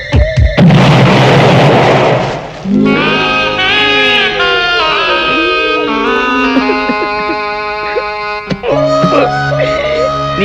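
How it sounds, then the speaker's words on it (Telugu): A bomb explosion in a Telugu film comedy scene: a loud, roaring blast lasting about two seconds near the start, then music playing for the rest. "అమ్మో పేలుతాయేమో."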